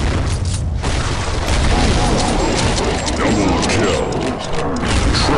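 Dense, continuous booming gunfire from the Repulsor Gravity weapon in Counter-Strike Nexon, loud and sustained throughout with rapid overlapping blasts.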